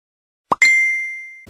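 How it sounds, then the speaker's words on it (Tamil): A Messenger app notification tone sounds once as a short pop, followed by a clear ringing ding that fades slowly over about a second. "மெசஞ்சருடைய டோன் இது."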